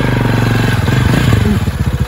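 A motorcycle engine runs steadily and close by with a loud, even drone and faint clatter, heard alone and with no talk.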